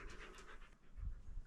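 A dog pants close by while outdoors near rock pictographs, its quick rhythmic breaths clear and fairly soft, with some low rumbling handling noise near the end.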